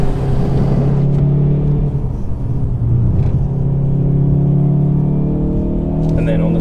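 A Hyundai i30N on a race track drones with a steady, loud engine note and heavy wind buffeting from an open window, the engine pitch rising and falling slightly throughout with no break.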